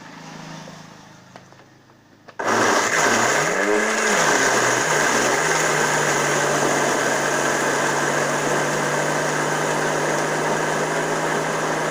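A blender making fresh apple juice starts abruptly after a quiet stretch, then runs as a loud, steady motor whir until the end.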